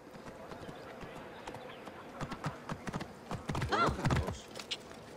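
Hooves of a horse in a video game clop in an uneven rhythm, building to a louder burst of galloping hoofbeats and a short whinny near the end.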